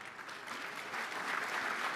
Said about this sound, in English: They all deserve another round of applause.